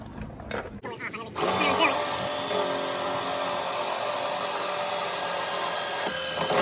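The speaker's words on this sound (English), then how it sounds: "It's just spinning that drill bit through the rivet." A power drill whirs steadily as the bit grinds through a metal rivet on a Mercedes ML window motor, loud and continuous after a brief start, with faint talk beneath.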